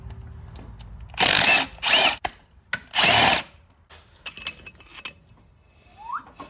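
Power tool loosening an axle bolt during manual transmission removal on a Mk5 VW Jetta/Golf: three loud bursts of drill-like whirring, each about half a second, followed by quieter clanks and rustling of the tool and parts.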